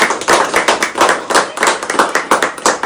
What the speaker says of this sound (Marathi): आपण जोरदार टाळ्या वाजूया